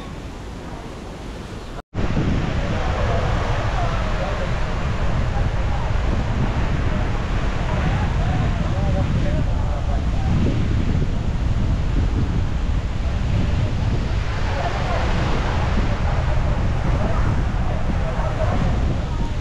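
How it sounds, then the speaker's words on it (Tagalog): Strong, steady wind roars across the microphone at a beach, mixed with surf and ocean wash, loud and continuous after a brief cut near the start. "Sobrang hangin."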